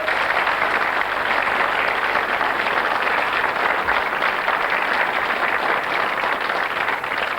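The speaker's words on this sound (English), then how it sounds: "A round of applause." Studio audience at a 1991 television quiz show applauding steadily, a continuous even wash of clapping filling the whole stretch with no talking over it.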